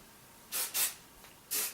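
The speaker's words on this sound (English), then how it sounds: "Just a quick spray." Pantene Pro V 24-hour volume maximum-hold hairspray released in short hissing bursts from an aerosol can, two quick sprays close together then a third after a pause, close and fairly faint.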